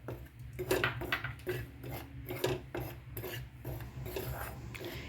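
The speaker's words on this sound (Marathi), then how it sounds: "आता आपण हे पीठ भाजून घेऊया" Dry flour being roasted in a pan for tambittu laddu, a spatula scraping and rasping against the metal in a steady repeated rhythm, close and fairly quiet.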